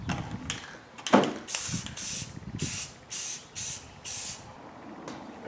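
Aerosol spray paint laid on a wheel hubcap in heavy final coats, a series of sharp hissing bursts of about half a second each, separated by short pauses, with a few soft handling clicks.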